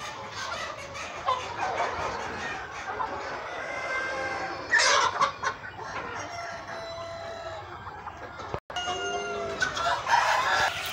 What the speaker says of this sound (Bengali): একটা করে তলায় 1500 মুরগি আছে